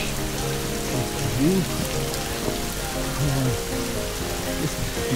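Steady rain falls on a forest hiking trail, Trail 5 near Dera Janglan in Islamabad, a continuous close patter of drops with someone speaking over it throughout.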